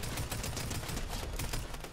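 Gunfire in the video game Fortnite, a dense, steady stream of rapid shots with no gaps, fairly loud and up close, with no talking over it.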